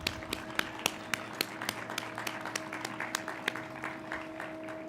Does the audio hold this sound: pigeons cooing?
no